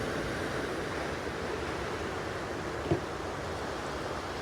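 Ocean surf at Refugio State Beach on the Southern California coast, a steady broadband wash of waves with wind rumble, one brief thump near the end and no voices.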